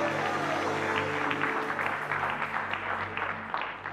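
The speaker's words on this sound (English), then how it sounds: "Come on, give the Lord a big hand clap of praise." A church congregation at a Wednesday evening service gives a hand clap of praise, a broad, sustained burst of many hands clapping over lingering organ or keyboard tones, tapering slightly toward the end.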